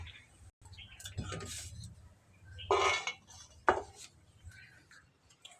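Fried coconut pieces being scooped from a pan into a bowl for coconut chutney, with light clinks and scrapes of a spoon against metal and dishware, a couple of louder clatters, close by and without speech.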